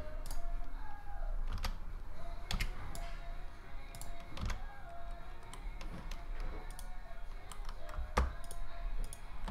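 Computer keyboard key presses and mouse clicks, scattered sharp taps and clicks at irregular intervals over a low steady room hum, close and fairly quiet, no voices.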